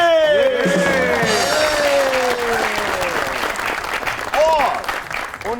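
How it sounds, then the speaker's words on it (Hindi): A studio audience at a televised entertainment show applauds continuously and loudly for the full length, with a voice and tonal sweeping sounds running over the dense clapping. "तो आपकी बहुत सी तालियों में a very talented the one and only Afan Waheed"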